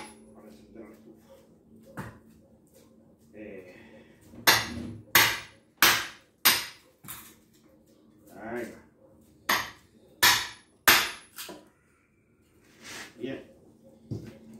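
A hammer strikes a cold chisel driven into dry firewood for kindling a wood stove, giving about ten sharp, ringing metallic blows in irregular groups. The blows are loud and close, with quieter background noise between them.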